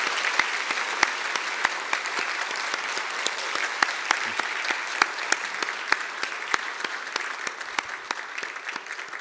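Church congregation applauding during a Sunday worship service to welcome a new pastor's family, a steady, even wash of many hands clapping that holds for the whole stretch with scattered sharper claps.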